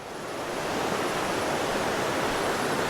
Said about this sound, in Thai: มามาดู ลำธารด้านหน้าดีกว่านะครับ